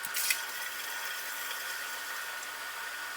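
Fresh water runs steadily into a bowl in a home kitchen while cauliflower is prepared for soup, a continuous soft hiss after a brief splash at the start, with no talking.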